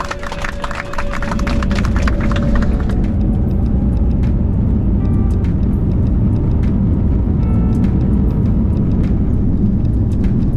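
An Airbus A321XLR airliner on its inaugural flight takes off, heard from inside the cabin as a loud, steady engine roar that builds and holds, with faint cabin clatter and no talking.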